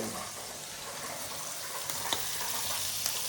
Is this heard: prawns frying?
yes